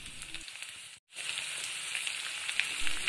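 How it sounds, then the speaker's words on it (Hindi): Shallots and curry leaves fry in hot coconut oil in a kadai, a steady broadband sizzle with a brief drop to near silence about a second in before the crackling resumes, continuous and close. "पहले हम कढ़ाई में कोकोनट ऑयल गरम कर लेते हैं, इसमें छोटा प्याज को फ्राई कर देते हैं, करी लीव्स भी डाल देते हैं"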